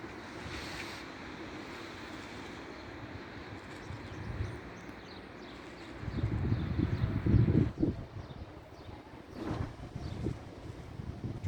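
Wind rushes and buffets outdoors in uneven gusts while a kite is flown, swelling louder near the middle and again toward the end, with no speech.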